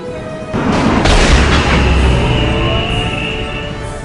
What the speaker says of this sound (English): Titan gunnery crew, fire on those monoliths and bring them down!